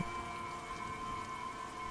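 Steady rain falls outside a pavilion at a Thai funeral hall, a continuous even patter with a faint sustained tonal hum running beneath it, and no voices.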